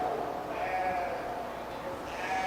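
Sheep bleating at a 4-H/FFA meat breeding sheep show at a county fair, a sustained wavering bleat with a second call near the end, close and clear over crowd murmur.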